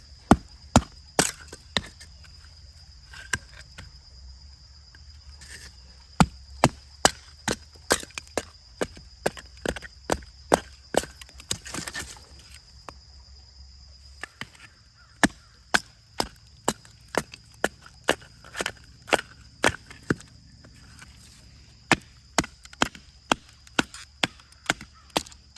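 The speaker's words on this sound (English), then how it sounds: "I am also going to try to baton some smaller pieces of wood" Firewood split by batoning with a Ganzo G807 fixed-blade knife of 9Cr14 steel, a long series of sharp woody knocks and cracks, irregular but frequent, close and crisp against a quiet outdoor background.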